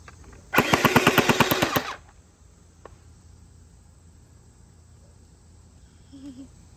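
X-Shot Glow Hyper gel blaster firing a rapid burst of about a dozen sharp, evenly spaced shots lasting just over a second, close and loud, followed by near silence with a single faint click.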